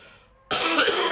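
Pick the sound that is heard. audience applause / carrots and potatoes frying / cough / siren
cough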